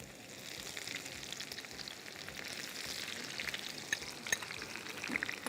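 Onions fry in hot oil in a pan for haleem, a dense steady sizzle and crackle with scattered pops, close and continuous with no voices.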